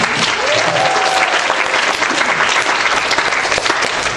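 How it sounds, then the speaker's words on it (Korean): A church congregation claps together in a loud, even burst of applause that holds steady throughout, with a faint voice briefly rising over it. "박수."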